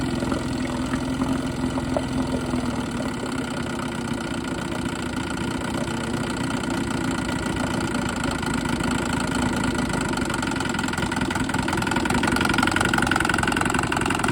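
Vintage OMC outboard motor idling very slowly, a steady loud mid-pitched engine drone with faint knocking pulses that continues without a break and without talk.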